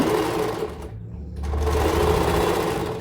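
An Usha Janome sewing machine stitching a saree fall, its steady motor hum running close and continuous with a brief lull near the middle before resuming.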